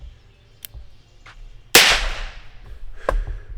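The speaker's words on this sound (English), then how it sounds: "All right, we are loaded. We are ready to shoot." A single sharp gunshot from a cheap revolver rings out at close range, with a loud crack that decays into a ringing tail, framed by a few faint clicks and handling noises before and after.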